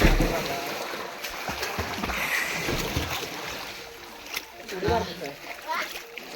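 Water splashes and sloshes from swimming in a village well, a steady churn of mid-level splashing with people talking over it throughout.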